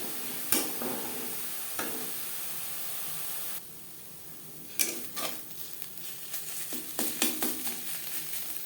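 Quiet sizzling of ghatkol leaf paste drying in a wok over low flame, with scraping and stirring strokes now and then, a soft hiss running underneath, close by and with no voices.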